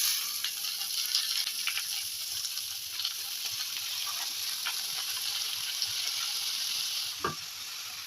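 Oil sizzles steadily in a pan of frying onion, garlic and dried red chilli as washed spinach goes in, a continuous bright hiss with scattered crackles and a brief clatter of stirring near the end.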